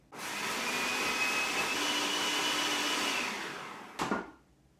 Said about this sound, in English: we'll add that to the food processor, put the top on, and we will pulse that until it becomes flour